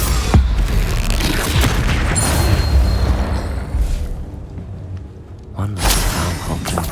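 Confringo blasting spell from Hogwarts Legacy erupting in a heavy, booming explosion with crackling bursts during combat, loud and dense, fading briefly before another blast near the end.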